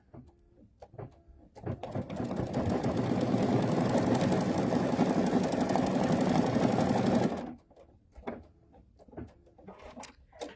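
A sewing machine stitching quilt fabric with white thread over red fabric runs in one continuous whirring burst of several seconds, loud and steady, with quiet handling sounds before and after.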